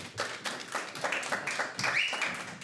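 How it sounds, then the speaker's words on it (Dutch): A small group claps briefly and unevenly at close range, scattered hand claps forming light applause. "Een applaus voor Louise."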